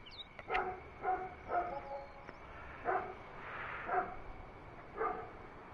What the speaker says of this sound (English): It sounds like there's a dog fight going on down the road